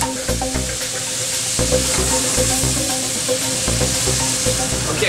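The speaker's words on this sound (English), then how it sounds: "I'm just going to deglaze it with a little bit of our ice cider." Pork flank sizzles loudly in a hot pan as Quebec ice cider is poured in to deglaze, a steady dense crackle with clinks and scrapes of stirring throughout, no voices.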